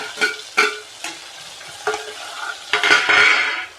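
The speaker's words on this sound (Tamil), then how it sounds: "தக்காளியை கொஞ்சம் நேரம் வதங்கட்டும்" Tomatoes and onions sautéing in a pan for an eggplant kuzhambu, with curry leaves added, giving a steady close sizzle broken by several scraping stirs and a louder burst of frying near the end.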